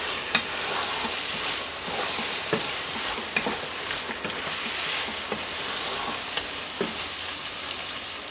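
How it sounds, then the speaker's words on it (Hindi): Minced keema with about three tablespoons of yogurt fries in a pan, a steady dense sizzle running throughout with occasional scrapes and taps of a spoon stirring it, no voices. "ये डाल लें और अब इसकी भुनाई करें।"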